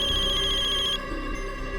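A phone ringtone plays, a repeating electronic melody with a pulsing high tone that cuts off partway through, leaving quiet room noise.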